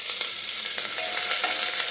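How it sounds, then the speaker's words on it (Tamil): Onions fry with spices in a pan for mushroom biryani, a dense continuous sizzle with light stirring clicks, close and fairly loud, with no voices. "இப்போது ஸ்பைசஸ் சேர்த்த பிறகு 1 நிமிஷம் வதக்கிட்டு இப்போ வெங்காயம் சேர்க்குறேன்."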